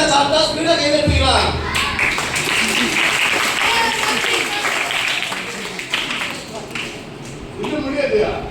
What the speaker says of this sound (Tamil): நான் ஸ்பீடா சாப்பிட்டா ஸ்பீடா கை தட்டுவீங்களா?